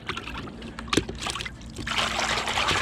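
Soft, close pouring and trickling of water into a fishing groundbait mix at night by the Dnipro, brief splashy bursts that build toward a steadier stream near the end.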